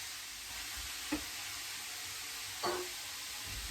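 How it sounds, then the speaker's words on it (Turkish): Steady, hissing sizzle of onions frying in a pan, with a couple of brief clinks or scrapes from stirring; no voices. "Hemen soğanla da biraz kavrulsun."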